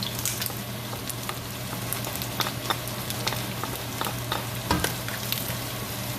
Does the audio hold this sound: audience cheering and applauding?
no